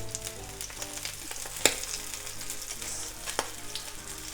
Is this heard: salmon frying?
yes